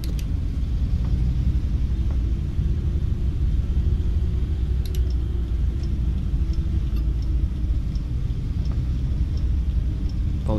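A BAZ-2215 Dolphin bus in the game OMSI 2 pulls away, its engine giving a steady low rumble with a constant droning hum throughout, close and fairly loud, with no voices.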